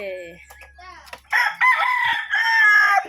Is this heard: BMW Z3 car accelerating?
no